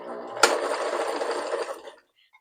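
1974 Kenmore sewing machine stitching a zigzag, a close, steady whirring and clattering run of about one and a half seconds after a sharp start click, then stopping into silence.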